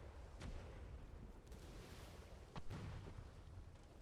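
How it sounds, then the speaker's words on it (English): Harbor cannon fire at a ship in a naval video game, two dull distant booms with rumbling tails over a constant low roar. "Harbor cannon hit forward mast"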